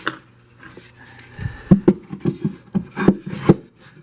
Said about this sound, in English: push it in place, and screw the screws in